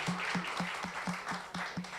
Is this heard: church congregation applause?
yes